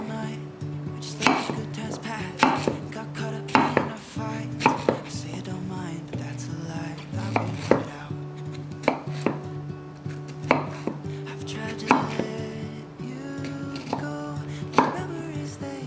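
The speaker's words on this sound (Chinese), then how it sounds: "把凤梨切成小丁状。" A knife dices pineapple into small cubes on a cutting board, steady sharp chopping taps repeating at a brisk, slightly irregular rhythm, close and clear with no voices.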